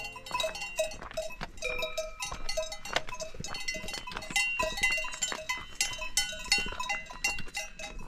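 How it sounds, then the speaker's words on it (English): Alpine cows beside a hiking path in the Dolomites ring their cowbells, producing a dense, irregular clanking of many metallic bells at varying distances, some close and bright. "Listen to that, there's loads of cows next to the path."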